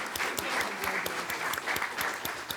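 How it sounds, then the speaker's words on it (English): Applause from the audience at a school board meeting: dense, steady clapping from many hands, fairly close and even throughout, with a faint murmur of voices underneath. "but we can clap too"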